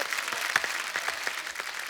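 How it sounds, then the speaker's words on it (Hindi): Studio audience applause welcoming two doctor guests on The Kapil Sharma comedy show: a steady, dense wash of many hands clapping at moderate volume throughout, with no talking. "एक बार जोरदार तालियां हो जाए हमारे मेहमानों के लिए।"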